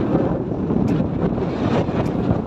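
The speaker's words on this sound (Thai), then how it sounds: "อาจจะลมแรงนี่ครับพี่น้องผม" Strong wind buffets the microphone on a broad riverside sand beach at Khemarat, Ubon Ratchathani, a loud continuous rumbling roar with steady gusts and no voices.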